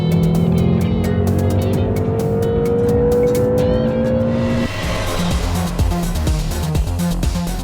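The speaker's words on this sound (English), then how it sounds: "all you need to do is press down on the throttle" A 2012 BMW M5 with its 4.4-litre twin-turbo direct-injection petrol V8 revs hard under acceleration, the engine note climbing steadily and loud before a gearshift drops it into a rougher, busier roar.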